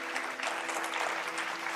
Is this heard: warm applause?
yes